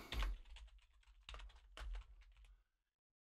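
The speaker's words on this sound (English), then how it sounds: "And type that in." Quick, close bursts of typing on a computer keyboard come in a few short clusters of clicks, separated by brief pauses, in an otherwise quiet room.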